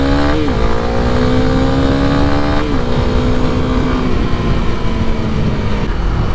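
A Honda CRF300L motorcycle engine drones loudly and steadily while riding, its pitch climbing through gear shifts, with heavy wind rush throughout.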